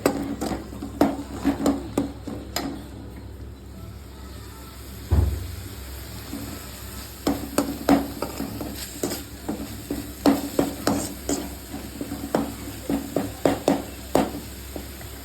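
Soft sizzling of a paste sautéing in a pan for thoothuvalai rasam, with repeated scraping and stirring knocks, close by, steady bubbling underneath, no talking.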